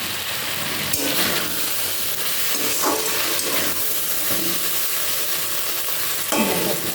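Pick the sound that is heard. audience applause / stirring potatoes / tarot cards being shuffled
stirring potatoes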